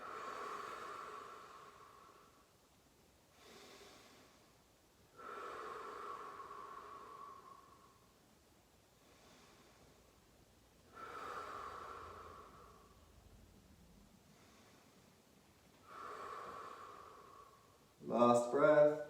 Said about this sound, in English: So breathing nice and deep and relaxing as you breathe out.